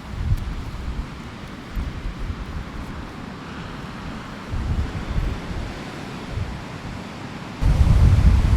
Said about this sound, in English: You got the big waves crashing